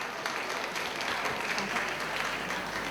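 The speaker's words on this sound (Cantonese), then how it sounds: "再次俾掌聲得獎嘅同學。" An indoor crowd claps for kindergarten award winners at a school prize ceremony, a steady, dense burst of applause lasting a few seconds.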